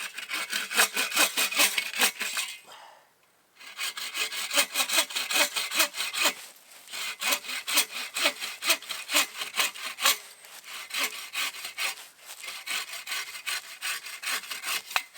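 A hand saw with a hardwood-only blade cuts through wood at a bushcraft camp. Rapid, rhythmic rasping strokes run almost the whole time, with one brief pause early on, close and loud.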